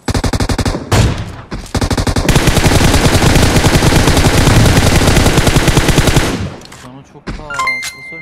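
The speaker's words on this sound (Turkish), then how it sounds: "Bize sıkıyorlar." Rapid automatic gunfire from PUBG Mobile rattles loud and close in long sustained bursts, broken by two short pauses early on, then cutting off near the end as a few faint sharp sounds trail after.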